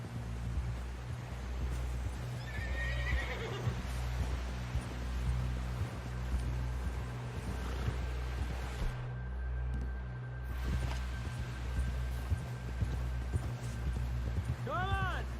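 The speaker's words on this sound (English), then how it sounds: "Someone help John down off this horse." Steady clip-clop of horse hooves in Red Dead Redemption 2 in a continuous rhythm over a low rumbling background, with brief voices and a faint whinny near the end.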